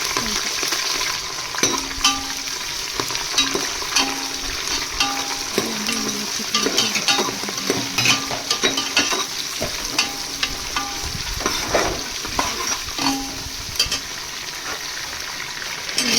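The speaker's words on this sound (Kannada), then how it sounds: "ಅದು ಸ್ವಲ್ಪ ಫ್ರೈ ಆದಮೇಲೆ ಈರುಳ್ಳಿನ ಹಾಕ್ತಿದ್ದಾರೆ. ಇದನ್ನು ಫ್ರೈ ಮಾಡ್ತಿದ್ವಿ" Onions fry in a pan for biryani, a steady loud sizzle with frequent scraping and stirring clicks of a spoon against metal throughout.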